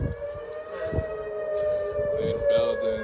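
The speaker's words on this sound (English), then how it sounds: "Yeah, they're storm sirens." Outdoor civil defense storm warning sirens in Frisco, Texas, holding a steady tone at a moderate distance, with faint wind and background noise around them.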